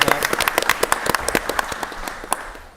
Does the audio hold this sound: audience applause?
yes